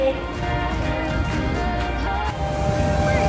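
A small airplane's engine drones steadily and loudly throughout, a continuous broadband roar with no talk over it.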